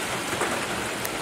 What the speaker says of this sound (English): Holy crap, it's hailing.